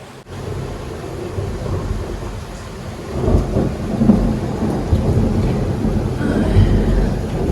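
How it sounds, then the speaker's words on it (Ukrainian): A thunderstorm with heavy downpour, heard from indoors, brings steady loud rain and low rolling rumbles of thunder that swell and build toward the end. "Дощ злива гримить."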